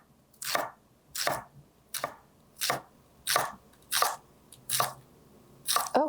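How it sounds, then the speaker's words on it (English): A knife thinly slicing a shallot on a board, with about nine crisp, evenly spaced crunchy cuts heard close up over a quiet background and no talking. "So we're gonna thinly slice a shallot."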